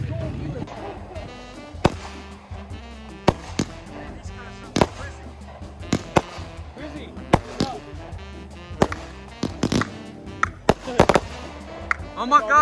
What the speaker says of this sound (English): is that a firework?